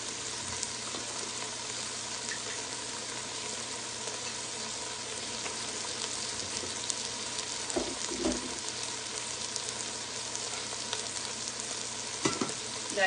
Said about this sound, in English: We're just going to let those onions and peppers keep cooking